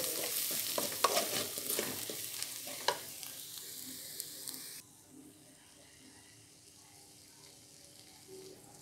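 Egg and bottle gourd bhurji is scraped and stirred out of a hot pan, with busy clinks and a soft sizzle for about five seconds. Then it drops to a quiet hum.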